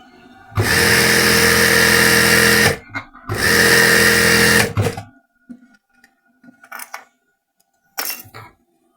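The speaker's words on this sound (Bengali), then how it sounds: "ডাবল সেলাই দিলে সেলাইটা একটু মজবুত হয়, সেজন্য এখানে ডাবল সেলাই দিয়ে দিলাম।" Sewing machine double stitching a salwar, two loud close bursts of fast whirring about two seconds each, followed by quieter clicks and handling sounds.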